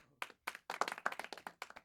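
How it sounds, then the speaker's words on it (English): A few people clapping hands in a short, quiet round of applause during a cooking demonstration, with distinct, separate claps in quick irregular succession and no talking. "Round of applause."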